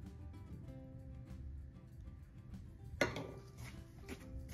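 Pizza dough ingredients being mixed in a bowl: faint scraping and knocking of a utensil against the bowl, quiet at first, then a sharper clatter about midway followed by continued light stirring.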